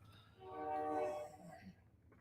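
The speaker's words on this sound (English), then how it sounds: "Annoying train sounds." A train outside a home sounds faintly, a brief distant horn swelling and fading over low rumble.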